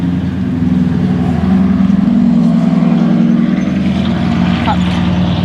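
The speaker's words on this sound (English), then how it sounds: "Oh, car coming." An old police car carrying lawn equipment on its back drives past outside a garage, a steady low engine rumble that stays close and loud throughout.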